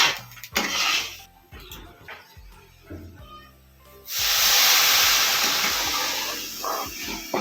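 A few scrapes and clatters in a pan of semolina upma give way to a loud, sustained steaming hiss as water hits the hot pan, close and continuous to the end with no talking.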